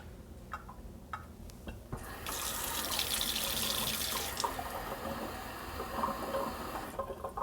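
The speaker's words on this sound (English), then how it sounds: "Now we're going to add to the onions in the pot 40 ounces of water." Water pours steadily into a pot of onions while making gefilte fish, a close continuous splashing gush following a few brief knocks and lasting several seconds.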